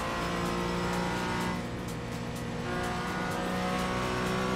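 A BMW race car engine in iRacing drones steadily at high revs, a continuous buzzing roar with layered harmonics and a brief dip in pitch midway, fairly faint overall.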